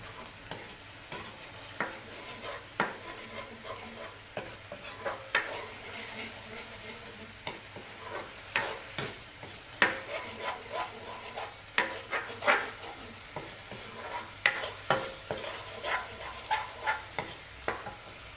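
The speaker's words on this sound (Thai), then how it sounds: "เราจะคั่วพริกแกงใส่กับกะทิก่อนนะ จะหอม" Thai curry paste stir-fried with coconut milk in a pan: a steady frying sizzle with many quick scrapes and taps of a utensil against the pan, close and busy throughout, no talking.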